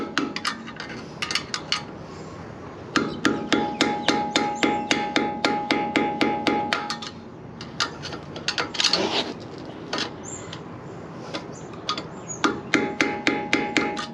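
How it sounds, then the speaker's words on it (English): Rapid rhythmic metallic taps and clinks ring out as a screwdriver is struck to bend brake tabs over during a Bendix 4WD front brake upgrade kit install on a 1979 vehicle, in bursts with brief pauses. "now it's just got to bend the little tabs over. So you can just use a screwdriver."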